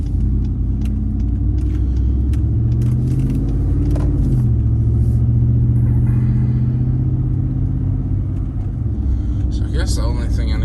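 A car driving along a road at night gives a steady, loud low rumble of engine and tyre noise from inside the cabin, continuous throughout with a brief faint rattle near the end.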